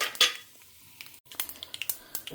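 Mustard seeds, urad dal and chana dal tempering in hot oil for idli rava kozhukattai, giving a loud initial sizzle followed by scattered sharp pops and crackles with brief stirring clatter, no talking.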